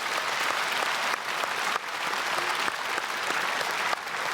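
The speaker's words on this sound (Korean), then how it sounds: "박수해 주시길 바랍니다." A church congregation at an early-morning service applauds the middle and high school students, a sustained, even roar of many hands clapping together, fairly close and full, with no speech over it.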